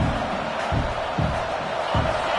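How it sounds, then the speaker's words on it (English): A home crowd at a Florida v Oklahoma college football game roars in a steady, dense wash of cheering, with a few swells rising above it. "this home crowd is fired up and ready to make a difference today"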